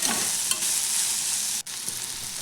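A soybean curry with spices, sugar and salt sizzles in a pan while being stirred, a steady close frying hiss with a brief dip and faint scraping, no voices.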